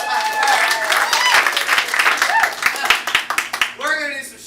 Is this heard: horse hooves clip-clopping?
no